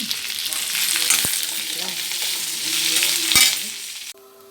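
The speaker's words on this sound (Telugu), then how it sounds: "ఈ నూనెలోని కరివేపాకు కూడా వేయించుకొని" Curry leaves fry in hot oil with a loud, continuous sizzle and crackle, and a few sharp ticks of a spoon against the pan. The sizzle stops abruptly near the end.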